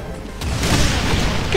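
A loud, booming gunshot in the Brutal Doom video game, a sharp blast that spreads into a short, roaring crash.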